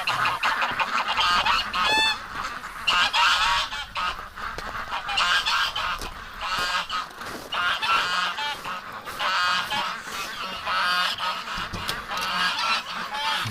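A flock of Muscovy ducks let out of their winter pen calls loudly and nearly without pause, a dense, raucous chorus of overlapping honking and squawking calls close by.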